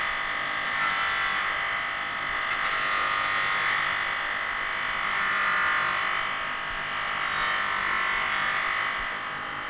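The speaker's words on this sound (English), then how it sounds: "Now it's a case we've got to get all the way around it using abrasives to remove the corrosion marks." An abrasive belt polishing a corroded aluminium Harley-Davidson side casing: a continuous high, buzzing whir that swells and dips gently as the part is worked against the belt, close and fairly loud, with no talking.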